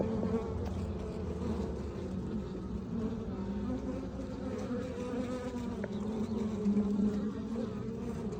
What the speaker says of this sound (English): It's time to play with the bees.